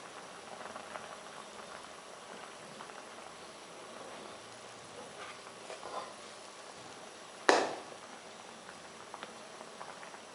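Rice flour balls for the Thai dessert Bua Loy simmer in a pot of boiling water, giving a soft continuous bubbling patter, with one sharp clatter of a utensil against the pot partway through.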